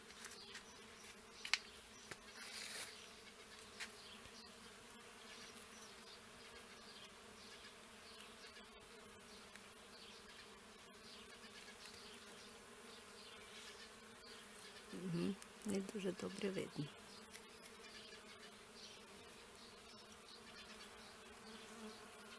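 Bees buzzing around grapevines surrounding a house, a constant dense hum from many insects, with one bee passing close and loud for a couple of seconds midway before the swarm settles back to a steady drone.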